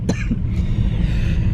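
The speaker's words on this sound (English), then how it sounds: "like I really want to cough right now" A single short cough bursts out near the start and is followed by a low rumbling background hum, with no speech.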